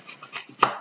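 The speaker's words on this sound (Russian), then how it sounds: "Нарезать деревянным ножом овощи, фрукты там накрошить, в принципе, можно." A wooden knife cuts food on a board, giving a few soft, close chopping taps and scrapes spread across a short, quiet moment.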